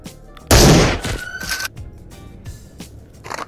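Gunfire in the VR game Into the Radius: one loud, close shot with a sharp crack and decaying tail, followed by softer mechanical clicks and handling noises.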